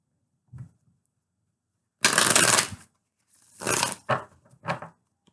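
Close, clear tarot card shuffling in separate papery bursts: one long riffle, then several shorter flicks and slides, with no voices.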